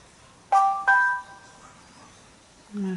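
A mobile phone alerts with two short bright chime bursts in quick succession, loud and close, then falls quiet before a low buzzing hum near the end.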